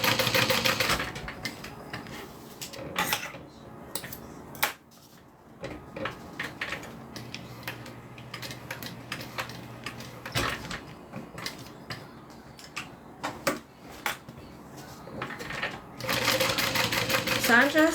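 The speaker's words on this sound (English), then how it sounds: "So I'm just sewing a really big old rectangle right around the edges" Domestic sewing machine stitching a large rectangle around the edges of fabric, running in steady bursts with short pauses, the motor whir and needle chatter close by while someone talks over it.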